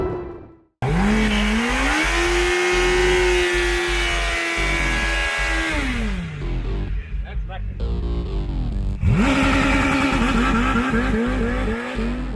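Buggy powered by a Suzuki GSX-R600 engine screams up the Simola Hill Climb course in Knysna, loud and close, revving high through gear changes with a sharp upshift and renewed climb. A voice is heard faintly in the mix.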